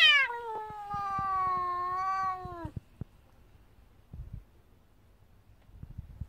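A cat lets out one long, drawn-out meow close by for nearly three seconds, followed by quiet outdoor rustling and a few soft taps.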